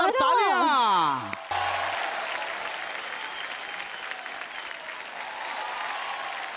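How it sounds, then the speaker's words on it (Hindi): Crowd at a Bhojpuri stage show applauding a duo's performance: warbling electronic stage music and a voice give way to a sudden cut, then broad steady clapping from a large audience that carries on to the end. "जोरदार तालियां"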